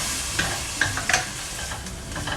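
Onions sizzling and frying in hot oil in a pan, a steady close hiss with a few stirring scrapes and clicks, no voices.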